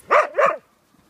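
A Belgian Malinois puppy barks twice in quick succession, close and fairly loud, each bark short with a rising-falling pitch, then quiet.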